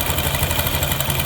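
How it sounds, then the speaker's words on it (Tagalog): A Yamaha Mio Soul scooter engine with a knocking fault runs steadily up close, a loud busy idle with rapid clattering pulses over a brief stretch, no voices. "grabe, maingay nga talaga yung makina"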